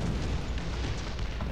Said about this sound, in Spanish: La puta artillería de mierda. Como caiga bien me mata